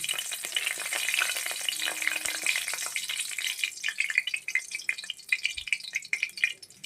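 Steady, crackling sizzle of dry red chillies frying in hot oil in a kadai, close up and continuous, with a few sharper spits and pops toward the end.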